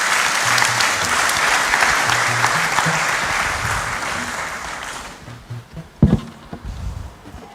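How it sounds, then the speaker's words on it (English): Conference audience applause at an annual New Year school and conference in Ghana, a dense, sustained round of clapping that fades out after about five seconds, leaving a few scattered claps and room noise. "Let's give her another round of applause"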